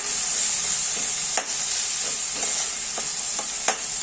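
Onion, peas and a tomato fry in a pan for a puri bhaji, a steady bright sizzle running throughout with a few soft scraping stirs breaking through, close and alone.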